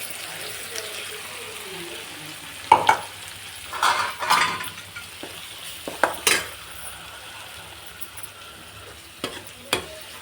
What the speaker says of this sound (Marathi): मसाला चांगला तळून घेऊ.